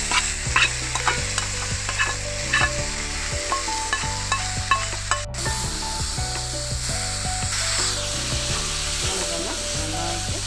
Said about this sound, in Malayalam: നന്നായിട്ട് ഇളക്കിയെടുക്കുകയാണ്.